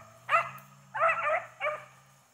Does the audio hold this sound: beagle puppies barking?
yes